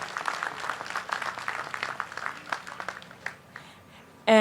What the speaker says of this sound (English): I'd like to ask you all to give yourself applause